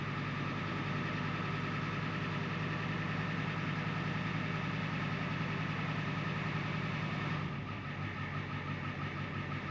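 A 1993 Ford F-250 with a 7.3 IDI diesel idles steadily and loud with air in the fuel lines, a continuous chugging drone that dips briefly near the end like a stumble or sputter.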